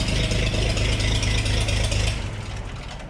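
The small engine of a piece of old hay equipment idles with a loud, rapid rattling beat that is a little uneven from a misfire. It holds steady, then drops and fades toward the end, with no talk over it.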